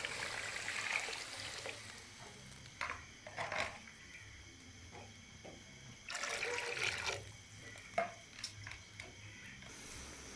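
Water is poured into a cooking pot for matar pulao, made with rice soaked beforehand. Soft, faint splashing and trickling come in intermittent bursts with quiet gaps between them, and no voices are heard.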